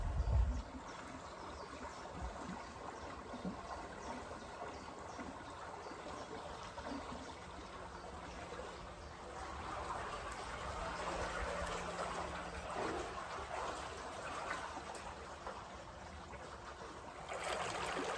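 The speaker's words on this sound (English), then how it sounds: "Lots of splashing because I've got lots of weed on my prop." Continuous churning and splashing water from a canal boat cruising along with weed fouling its propeller, a steady low rumble with a thumping knock at the start.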